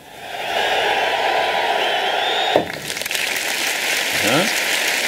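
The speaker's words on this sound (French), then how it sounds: "Une deuxième piste avec de la foule" A crowd track layered into a music piece: broad cheering and applause-like wash that fades in, holds steady, and ends with a short percussive flourish.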